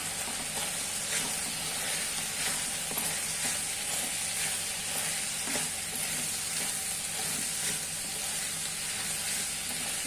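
Okra curry with chili powder cooking in a pan, a steady close sizzle and hiss with light intermittent scraping from stirring, no talk.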